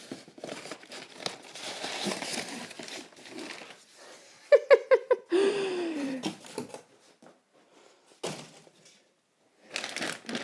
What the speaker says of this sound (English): Oh, it comes in a big plastic bag.